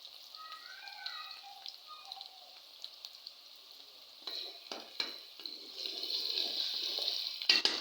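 Onions fry in a pan for chicken tikka handi: a faint, soft sizzle broken by occasional stirring scrapes, which grows slightly louder and busier toward the end.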